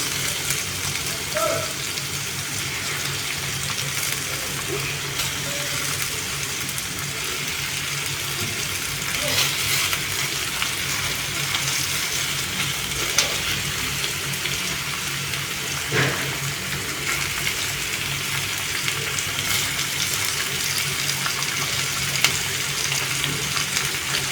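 Fish for a tagine with onions and raisins sizzles steadily in a pan, a constant, fairly loud frying hiss that continues without a break from start to finish.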